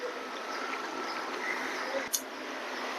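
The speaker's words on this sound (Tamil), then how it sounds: "நல்லா கொதிச்சு வருது." Water coming to a boil in a covered pot on a home kitchen stove, a steady broadband bubbling hiss held at even loudness throughout, with one brief sharp tap near the end.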